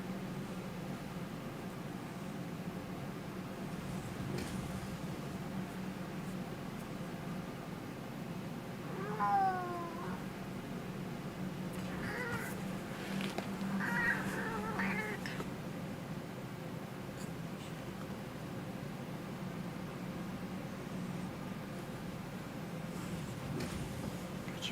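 A house cat meows a few times, faint and mid-distance, in two brief clusters over a steady background hum and hiss, with no talking.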